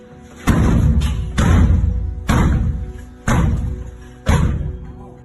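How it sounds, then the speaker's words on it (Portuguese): Five heavy thuds on a bedroom door, evenly spaced about a second apart, loud and close, each with a booming low resonance; no voices. "De repente, houve uma forte pancada na porta do meu quarto"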